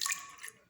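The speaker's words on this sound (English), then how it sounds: "I'm going to pour some cold fresh milk, about a cup of" About a cup of cold fresh milk poured into a pot over medium heat, giving a brief splashy liquid rush that is loudest at the start and then settles to a softer trickle.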